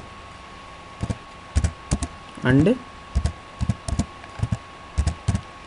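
Keystrokes on a computer keyboard during AutoCAD drafting work come as short clicks in small bursts, spaced through the span at close range, with a brief spoken word in the middle.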